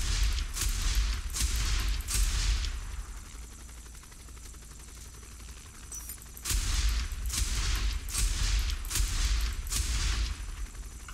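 Video game gunfire in Saints Row The Third: several rapid bursts of shots, loud and close, broken by a quieter lull before more volleys.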